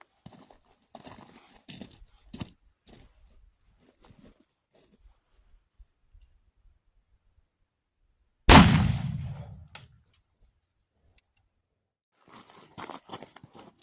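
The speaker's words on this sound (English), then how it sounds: "I'm going to try shooting at the head part of that target from a little further back" A Pedersoli-built 12 gauge double barrel blackpowder shotgun fires one loud, sharp blast that booms and decays for over a second, set between quiet stretches with soft speech and handling noises before and after.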